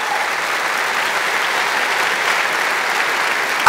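Sustained applause from a large audience at a men's church convention, steady and dense for several seconds without a break, with a brief louder burst right at the end.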